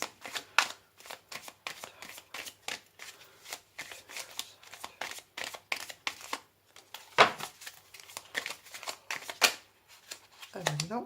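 Tarot cards are shuffled by hand in quick riffling bursts, repeated many times in an uneven rhythm, close and crisp with short pauses between.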